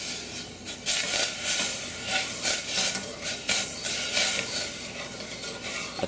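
Dark brown sugar syrup for homemade taho being stirred in a pot, a steady close scraping and swishing over a soft hiss that carries on for several seconds without talk.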